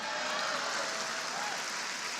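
Audience applause at the National Urban League State of the Urban League address, dense steady clapping from a large crowd filling the whole stretch.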